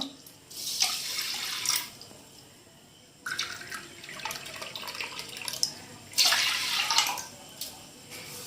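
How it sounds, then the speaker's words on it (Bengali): Water poured from a measuring cup into a pot with sugar to make syrup for palm malpua, three bursts of splashing pouring separated by quieter gaps, close and alone with no talking. "আর এখানে এই কাপ মেপে আমি এখানে 2 কাপ জল দেব।"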